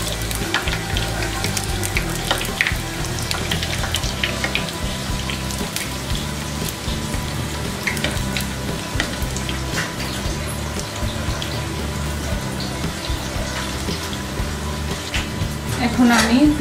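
Egg pitha fry and get turned in hot oil, giving a steady, dense sizzle and crackle throughout, close and fairly loud. A faint bump sounds near the end.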